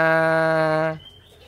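A caged pigeon in a breeding coop gives one steady, low, resonant coo lasting about a second, loud and close, then breaks off into a quiet background hush.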